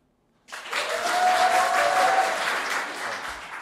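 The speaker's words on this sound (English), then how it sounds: "we're going to make some loud noise and applause and see if it goes up" A conference audience bursts into loud applause and noise after a short silence, holding a dense, sustained roar of clapping for about three seconds before easing slightly.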